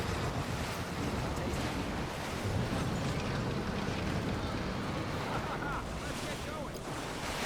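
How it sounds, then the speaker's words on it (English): Storm wind and crashing surf in the real-time strategy game Mass Conflict: Ignition, a dense, steady roar of wind and waves that runs unbroken at moderate level throughout. "It's like there's a full-on storm going on."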